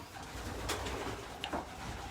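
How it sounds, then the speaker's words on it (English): Racing pigeons in a race loft, a low soft cooing murmur with a couple of brief wing-flutter or call bursts, close and steady throughout with no talk. "This is the new group of birds in here."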